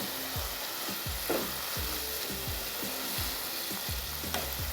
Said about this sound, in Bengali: এখন দেখুন আমি কষিয়ে নেব।